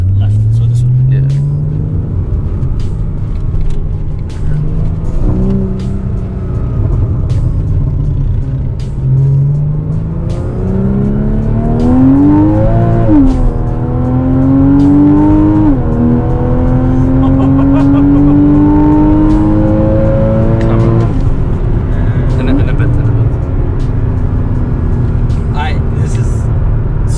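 A 2015 Porsche Boxster GTS pulls away on a launch-control start, its engine note climbing in long rising sweeps through the gears, loud and close from inside the cabin, with people talking over it.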